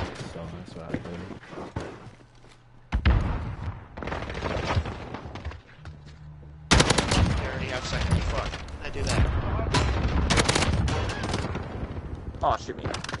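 Heavy gunfire in Call of Duty: Warzone sounds through much of the stretch in loud, close bursts of automatic fire with booming impacts, interrupted by brief lulls, while a player talks over it.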